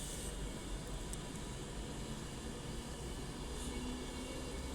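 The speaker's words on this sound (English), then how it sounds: "390 something or other is now leaving to go into Manchester Piccadilly" A British Rail Class 390 electric train pulls out toward Manchester Piccadilly on the West Coast Main Line at Ardwick, a steady broad rumble and hiss from a moderate distance holding an even level with no speech.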